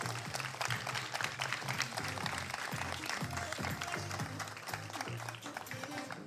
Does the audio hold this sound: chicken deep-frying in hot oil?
no